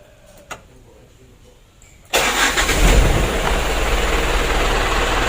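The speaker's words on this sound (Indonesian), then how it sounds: "Untuk mesinnya sudah hidup" After a quiet stretch with a single faint click, a Hino Ragasa 120 PS truck diesel engine with a rough-running fault cranks and fires abruptly, then settles into a loud, steady close idle rumble.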